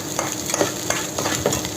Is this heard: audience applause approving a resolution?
no